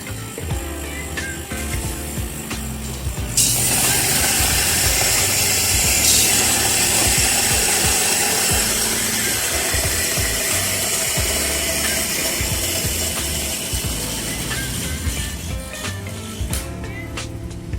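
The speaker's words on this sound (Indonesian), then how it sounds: "yang pertama kita lakukan adalah nge-blend dulu kopinya" An electric blender whirs loudly and steadily as coffee is blended for an iced coffee latte, starting after a few seconds of quieter clatter and running continuously to the end.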